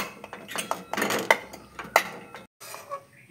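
Boiled mangoes mashed in a pot with a metal masher, giving a close run of clanking, scraping metal knocks with a few sharp clinks, then a short pause and softer scrapes.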